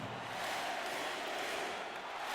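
An arena crowd in the NBA 2K15 basketball game roars in a steady, dense wash of cheering during a Trail Blazers versus Knicks matchup, loud and sustained for the whole stretch.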